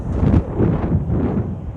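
Wind gusts buffet a microphone outdoors in cold weather, a continuous low rumble swelling and easing in waves for the whole stretch, fairly loud and close with no talk over it.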